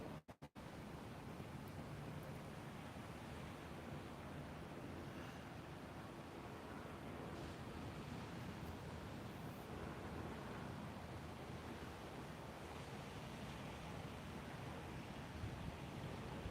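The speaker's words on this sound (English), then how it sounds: "I hope you can hear these because these are pretty good waves and I can hear them crashing" Atlantic Ocean surf at high tide on the Grand Strand rolls in as a steady, low, washing roar with wind noise, fairly faint and without any talk.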